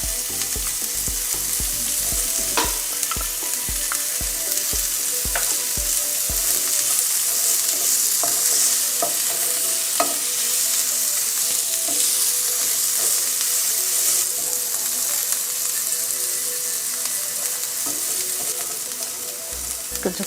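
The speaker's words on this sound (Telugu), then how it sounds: "ఆనియన్స్ ఫ్రై అవుతున్నాయి" Onions and green chillies frying in a pan for an old-style Andhra cucumber curry, with a loud, steady sizzle and frequent stirring clatter, close up and without talk.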